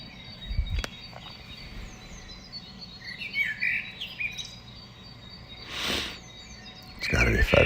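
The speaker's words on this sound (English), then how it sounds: "Birds are up." Birds chirp and call in a dawn chorus around 5 a.m., with scattered bright tweets at varying distance over a low background, broken by a couple of sharp nearby knocks or rustles.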